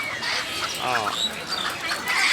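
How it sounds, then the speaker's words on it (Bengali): Ducks quacking amid the bustle of a rural poultry market selling ducks, chickens and pigeons, a short run of nasal calls over a dense, noisy crowd background. "আজকে অসংখ্য হাঁস আছে মুরগি আছে"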